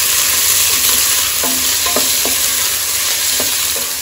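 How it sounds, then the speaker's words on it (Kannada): Two small-cut onions fry in oil in a pan with a steady, loud, close sizzle, while sharp spoon scrapes and stirring knocks land every second or so. "ಸ್ವಲ್ಪ ಎಣ್ಣೆ ಹಾಕೊಂಡಿದ್ದೀನಿ ಇಲ್ಲಿ ನಾನು ಎರಡು ಈರುಳ್ಳಿ ಸಣ್ಣ ಕಟ್ ಮಾಡಿಕೊಂಡಿದ್ದೀನಿ ಇದನ್ನು ಅಷ್ಟೆ ಸ್ವಲ್ಪ ಈರುಳ್ಳಿ ಕೆಂಪಾಗುವಂತೆ ಇಟ್ಕೊಂಡಿದ್ದೀನಿ"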